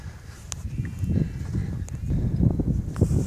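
Saddled horses' hooves clopping on the ground nearby at a Mongolian ger camp, irregular steps with some rustling and low background noise.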